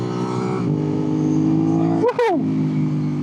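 An aftermarket motorcycle exhaust idles and revs, with a steady low engine drone and one sharp rising-and-falling rev burst near the end.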